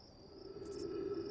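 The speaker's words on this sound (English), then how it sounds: "you hear the crickets." A steady chorus of crickets chirps in the Outer Wilds video game, a continuous high trill that grows slightly louder over a brief stretch with no voices.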